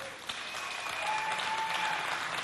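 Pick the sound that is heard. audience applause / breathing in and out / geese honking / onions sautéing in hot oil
audience applause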